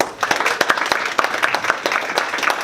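Audience applause from a comic convention crowd, a dense steady patter of many hands clapping at close range and holding level for the whole stretch.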